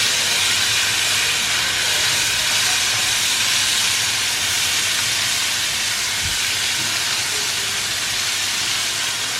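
Anchovies frying in a pan with about two tablespoons of hot coconut oil, giving a loud, continuous steamy hiss and sizzle that holds steady throughout with no voices.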